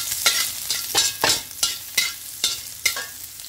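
Garlic fries in a pan of a little oil and is stirred repeatedly, each stroke bringing a sharp burst of sizzle, about seven rhythmic scrapes over a softer continuous crackle, close and clear.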